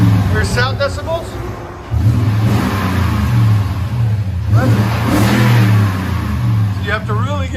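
Toyota Tundra with a 5.7L V8 and aftermarket exhaust revving, a deep engine rumble that swells as the throttle opens and holds steady, heard under people talking.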